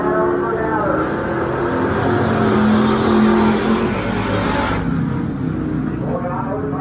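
Dirt track race cars, including a Camaro, roar around the track in a steady loud engine rumble that swells and fades as they pass, with an announcer talking over it.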